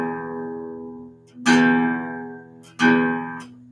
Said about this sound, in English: Your guitar, your sixth string, sounds like this.